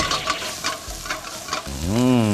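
Shrimp and garlic stir-fried in a hot pan for Thai three-flavored thin noodles, a steady sizzle with scraping stirs, then a low rising hum near the end.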